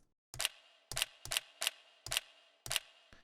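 Sharp, bright crackling bursts, a crackle sound effect in a house music track, repeat in an uneven rhythm, each with a short snappy decay, standing alone against silence.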